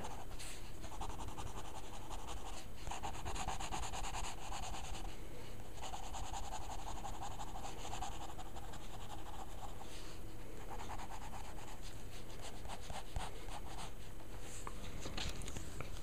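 Crayola Twistables crayon coloring on paper, a steady soft scratchy rubbing in repeated strokes, close and continuous, with short pauses between bursts and no talking.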